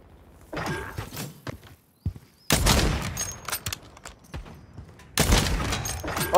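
Bursts of loud gunfire in a first-person shooter video game, with rapid fusillades of shots in dense clusters separated by quieter gaps, sharp and close, with no talking.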